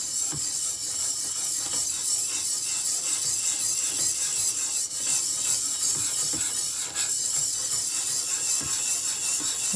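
A broadsword blade is drawn over an oiled 250 grit sharpening stone, giving a steady, close rasping rub with repeated strokes that carry on throughout, with no talk.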